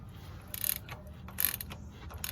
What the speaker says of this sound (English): we're going to go ahead and wrench that down with a ratchet real quick.